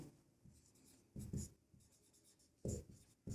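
A pen scratches across paper in short bursts and strokes during a maths lesson, close and quiet, with brief pauses between the marks and no talking.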